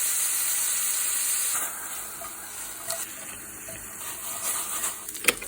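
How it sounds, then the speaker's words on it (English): Chopped axis deer venison sizzling in a hot skillet, a steady bright hiss with scattered small pops and crackles, close and alone with no talking. "We're gonna go ahead and throw it into the skillet."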